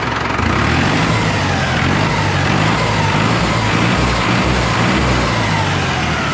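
A Mahindra tractor bought in 2019 and fitted with a turbo kit in 2022 runs with a loud, steady diesel drone that holds evenly throughout at close range, with no talking.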